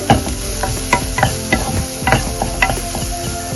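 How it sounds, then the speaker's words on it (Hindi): Cumin and coriander powder being roasted in a pan on low heat for a tomato-free paneer gravy, with a spoon stirring and scraping in a steady rhythm over a soft sizzle, close by and with no talking. "1 मिनट मसालों को हल्का सा भून लेंगे।"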